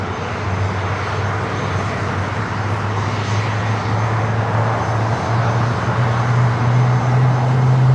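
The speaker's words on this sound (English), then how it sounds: "Next takeoff is Frontier, Virginia the Wolf livery, heading to Atlanta, Georgia. It's an A321, flight 4316." A Frontier Airbus A321 in Virginia the Wolf livery takes off at LAX, a loud, sustained jet roar whose engine tone rises steadily, heard alone with no talk.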